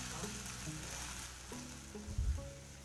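Ginger-garlic paste fries in a pan, a steady soft sizzle heard up close and fairly quiet, with a faint low voice briefly in the background.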